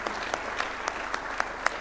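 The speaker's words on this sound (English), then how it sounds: "Another round of applause for His Excellency." A crowd applauds the president of Kenya at a university launch event in Nairobi, a steady wash of clapping with a few sharper individual claps standing out, moderately loud and continuous throughout.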